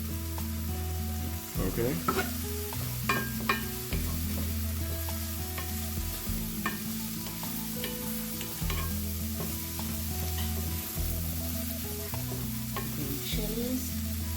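Egg scramble with mushrooms and green chilies sautéing in a pan, a steady close sizzle broken by repeated scraping stirs of the spatula, with one brief spoken word.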